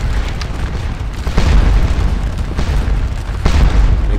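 Cannon fire booms in the Napoleonic battle game Scourge of War Waterloo, with several loud, heavy blasts rolling over a constant battlefield rumble.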